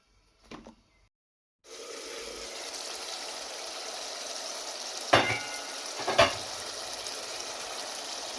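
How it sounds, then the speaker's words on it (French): Tomato fries in a pan over medium heat for a fish sauce, a steady close sizzle starting after a short quiet moment, broken by two sharper clatters of stirring. "j'ai laissé la tomate frire une bonne dizaine de minutes à feu moyen"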